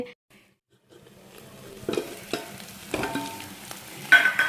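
Ginger, garlic and chili fry in a pan, giving a soft sizzle with scraping stirs that grow busier and louder toward the end.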